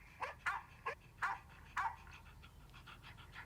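Big dogs barking in a sound effect, about five sharp, fairly close barks in an uneven rhythm, followed by softer panting and yips.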